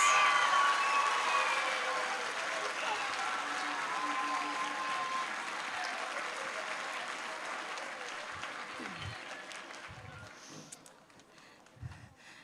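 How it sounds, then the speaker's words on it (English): Audience applause at a middle school band concert for graduating eighth graders, steady clapping that starts strong and gradually thins and fades over about twelve seconds. "Applause for all my graduating 8th graders."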